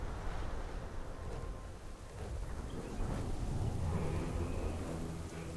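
A thunderstorm in World of Warcraft Dragonflight: steady broadband rain and wind roar with low rumbling thunder swelling near the middle and end, continuous and fairly loud, no voices.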